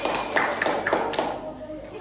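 Schoolchildren in a grade 2 maths classroom clap for a group, a short burst of several distinct claps over faint talk, fading after about a second.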